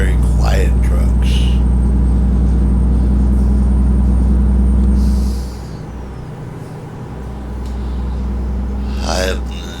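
A Western Star truck from American Truck Simulator runs with a deep, steady low engine drone for about five seconds, then drops away, leaving a quieter, lighter rumble that slowly swells again, with brief bursts of voice over it.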